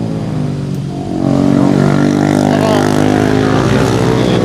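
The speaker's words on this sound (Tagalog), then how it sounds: "Motor." A motorcycle on a curving mountain highway approaches and grows louder, its engine droning with a steady harmonic whine that builds after the first second and holds close.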